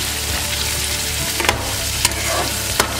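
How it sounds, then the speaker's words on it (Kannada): Chopped onion and capsicum fry in hot oil with a steady, loud, close sizzle throughout, broken by a few sharp scrapes of a spoon stirring against the pan. "ಎಣ್ಣೆ ಕಾದಿದೆ ಈರುಳ್ಳಿ ಹೆಚ್ಕೊಂಡಿರೋ ಈರುಳ್ಳಿ ಕ್ಯಾಪ್ಸಿಕಮ್ ಎರಡನ್ನು ಹಾಕ್ಬಿಟ್ಟು ಸ್ವಲ್ಪ ಹೊತ್ತು ಫ್ರೈ ಮಾಡಬೇಕು"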